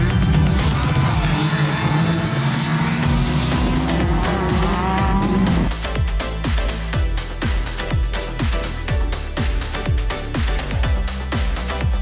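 Off-road race vehicles compete in the Mickey Thompson Stadium Off-Road Racing series. Loud, continuous engine roar fills the whole stretch, giving way to a pulsing run of repeated bursts in the second half.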